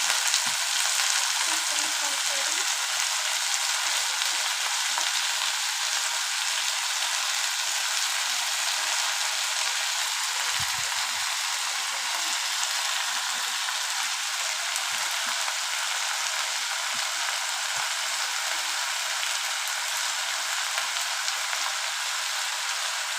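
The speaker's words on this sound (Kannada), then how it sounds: "ಈಗ ಸೊಪ್ಪು ಹಾಕೋತಾ ಇದ್ದೀನಿ ನಾನು ಅಷ್ಟೇ." Amaranth greens (dantu soppu) fry in a hot pan with a loud, dense, continuous sizzle and crackle, steady throughout, with a few faint stirring knocks.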